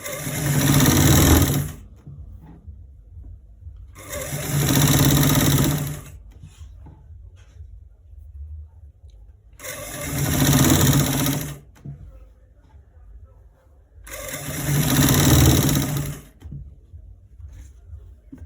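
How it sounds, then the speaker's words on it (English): A sewing machine stitches the front and back pieces of a trouser together, whirring loudly and steadily in four long runs separated by short pauses, close up with no talking. "We are stitching it from the top to the down part."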